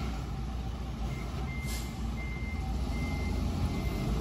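Steady reversing beeps from a fuel tanker truck in Roi Et province, Thailand, repeating over a constant low engine rumble and wet street background after rain, fairly close and continuous.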